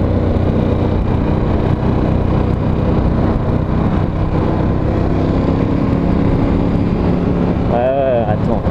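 Ducati Scrambler 1100 Special motorcycle engine running, a loud continuous low rumble with heavy wind buffeting, steady throughout with a slight shift in tone near the end.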